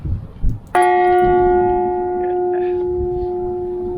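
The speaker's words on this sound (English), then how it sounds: "there's a massive bell here right at the end which you can strike to your heart's content" A massive bell at the end of Southend Pier is struck once, giving a loud, clear clang that rings on with a long, sustained tone and slowly fades.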